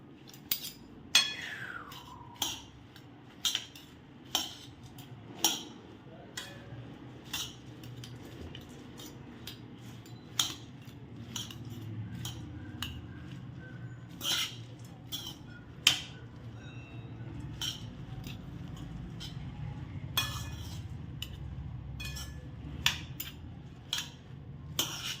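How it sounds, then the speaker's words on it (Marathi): A spoon stirs bhel with spices in a bowl, giving repeated light clinks and taps at an uneven pace over a quiet, soft background. "मिक्स करूया."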